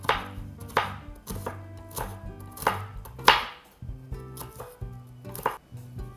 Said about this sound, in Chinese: 然后再把核桃和瓜子切一切